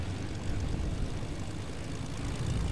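A steady, loud airplane engine drone fills the scene, continuous and unbroken with no talk over it, like a propeller plane running close by.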